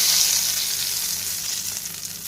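Melted butter hits hot dhaba-style chana dal with a loud, bright hiss of sizzling that starts strong and slowly eases over two seconds, close and uninterrupted.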